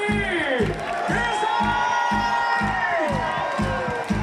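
A concert audience cheers and shouts for the double bass player during band introductions at a live show, loud whoops and cheering over a steady thumping rhythmic beat that pulses throughout.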